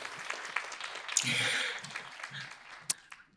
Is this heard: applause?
yes